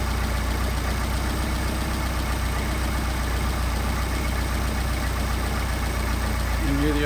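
A Mercedes 190SL engine idling on Solex carburetors, a loud, steady close-up rumble with an even low-pitched pulse and no breaks throughout.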